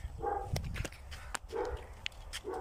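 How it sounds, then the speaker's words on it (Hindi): A dog in a village barks in a few short, sharp bursts nearby, with rustling and movement around it. "कुत्ता भी भौंक रहा है।"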